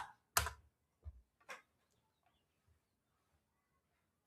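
Keys on a computer keyboard are pressed as a Django runserver command is typed, giving a few sparse, isolated clicks spread apart, close but soft in a quiet room.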